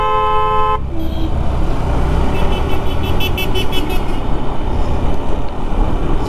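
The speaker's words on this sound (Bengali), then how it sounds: "এইদিকে হর্ন দিচ্ছি আমি।" Vehicle horns honk repeatedly on a road near Kolkata, one long harmonic blast at the start followed by busy traffic rumble, engine noise and further horn toots from cars and a nearby bike, loud and close throughout.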